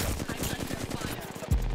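Gunfire from the Apex Legends battle-royale game on the World's Edge map, a rapid burst of close shots mixed with game noise and a sharp louder impact near the end.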